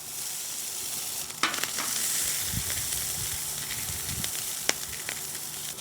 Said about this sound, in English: using some more ghee, and putting down some corn that I shaved off the cob.